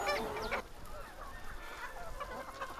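Farm chickens fed on live insect larvae, with a loud burst of clucking at the start and then softer, scattered fowl calls over a steady barn background.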